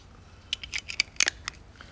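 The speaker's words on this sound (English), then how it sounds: "And if I put on the lens cap, this is how it sounds like." A Nikkormat EL film camera fires with its lens cap on, giving a run of small, close, crisp mechanical clicks and ticks over about a second, the longer exposure spreading the shutter sounds out.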